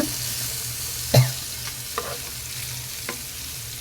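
Fish frying in oil in a pan while being gently turned over, with a steady low sizzle and a few soft scraping clicks from the turning, one louder clatter near the start.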